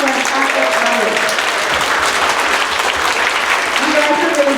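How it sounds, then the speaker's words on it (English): Performers at an elementary school winter concert clap for the audience, a loud, dense, steady wave of applause from a large group filling the room, with voices mixed in. "So could our performers please clap for our fantastic audience?"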